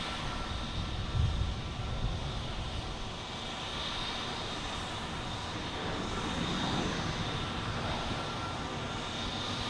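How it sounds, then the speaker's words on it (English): A United Airlines airliner from Newark lands at Boston Logan, its steady broadband engine roar holding at a constant, moderately loud level throughout, with a slight swell midway and no voices. "We have United Airlines coming in from Newark."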